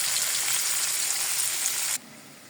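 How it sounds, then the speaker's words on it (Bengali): Stinging catfish (shing fish) fry in hot oil, a loud, steady hiss and sizzle that cuts off sharply near the end, leaving only a faint background hum. "এখন আমি আরো 2টা শিং মাছ ভাজি বসায় দিলাম।"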